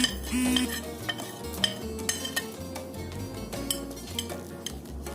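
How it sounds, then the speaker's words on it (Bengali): Rohu fish pieces are mixed with salt, chilli powder and sugar in a bowl, with repeated close clinks and scrapes of a spoon against metal in a steady stirring rhythm. "এটাকে আমি একটু মিশিয়ে নেব, ভালো করে মিশিয়ে নেব।"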